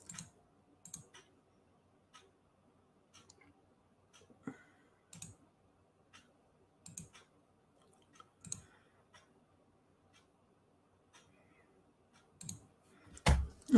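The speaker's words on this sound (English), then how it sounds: "I'm just going to type this in." Sparse clicks of typing on a computer keyboard in a quiet room, scattered single keystrokes and short bursts at irregular intervals, growing a little louder at the end.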